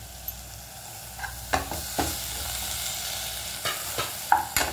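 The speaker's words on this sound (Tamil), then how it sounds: "இதை நல்லா இதை போட்டு நல்லா வதக்கிடுங்க." Onion and tomato sautéing in a pan for drumstick stem soup, with a steady soft sizzle and a few sharp scraping stirs of a spoon spaced through the passage; no talking.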